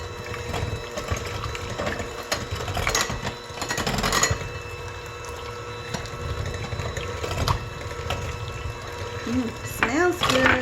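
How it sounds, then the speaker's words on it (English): An electric mixer whirs steadily, beating butter into squash pie filling with a constant motor hum and a faint wet churning, close up with no talk. "And we're going to mix this until it's all smooth and creamy."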